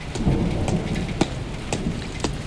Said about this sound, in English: It's literally been raining for 2 days straight.